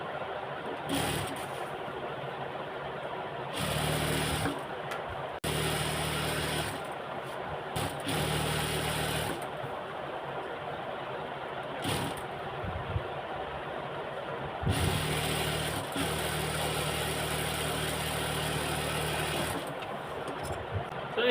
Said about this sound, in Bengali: এখন এটাকে আমি হ্যামটা সেলাই করে নিব